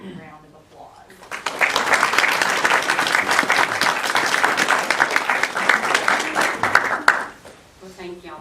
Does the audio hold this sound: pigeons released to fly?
no